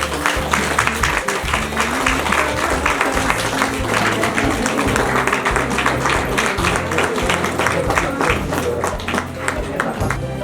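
Guests at a Nepali Christian church wedding clap steadily for the newly presented bride and groom, the rhythmic applause layered over loud music and some talk.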